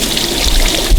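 Muddy water pours and splashes from the holes of a gold trommel's spray bar, a loud, close, continuous rushing spray with a heavy low thump near the end.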